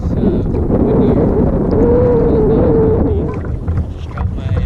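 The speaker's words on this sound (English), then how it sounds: "It's windy here." Wind at Half Moon Bay buffeting a microphone during kayak crabbing on the water, a loud, steady low rumble with gusty fluctuations throughout.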